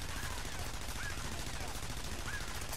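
Automatic turret fire in Splinter Cell: Conviction, a dense, continuous rattle of rapid shots filling the moment at steady loudness, with voices underneath.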